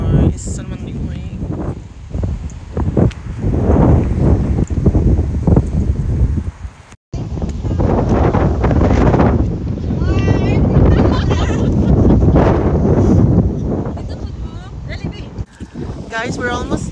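Strong wind buffeting the microphone on a bridge in Umeå, Sweden, loud gusty rumbling that surges and drops throughout, with a person talking over it.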